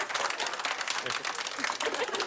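A live audience at a televised cooking contest breaks into steady applause, dense clapping filling the short stretch at moderate volume, with some voices mixed in.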